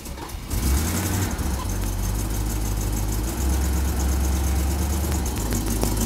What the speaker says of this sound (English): Let's do it again and see how strong that starter rotates the engine.